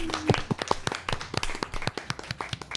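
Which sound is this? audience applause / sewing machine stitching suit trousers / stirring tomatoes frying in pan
audience applause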